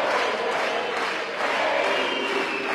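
Boxing arena crowd after a knockout in the Neri Muñoz vs Claudio Baldomir bout, a dense, steady roar of shouting, cheering and clapping that fills the whole stretch at high volume with no clear pauses.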